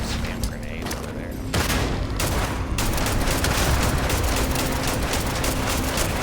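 Grenade explosions in the video game Starfield, a dense, loud barrage of bursts and crackling blasts that rolls on continuously without a break.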